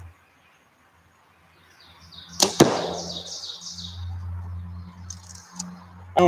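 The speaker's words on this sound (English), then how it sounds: "30 something arrows that I put through this target today." An arrow strikes an archery target at an outdoor range with a sharp, close impact thud, followed by a second hit, while birds chirp in the background.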